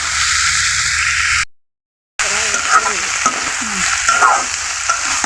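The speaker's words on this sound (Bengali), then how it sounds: "এভাবে কাঁকরোলটাকে ভেজে নিতে হবে" Slices of spiny gourd fry in hot oil, giving a steady close sizzle with a brief silent break partway through, followed by crackling and stirring scrapes.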